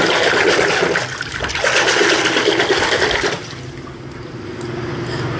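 Water gushes loudly from a tap while a toy pig is washed, the flow churning for a few seconds before easing into a softer, steady trickle, with no talking.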